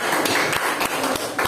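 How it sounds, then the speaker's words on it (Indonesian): Small group of students in a classroom discussion session giving brief applause for a presenter, a few scattered sharp claps with some chatter, fairly close and moderately loud. "Kita beri tepuk tangan dulu untuk pelaku ini."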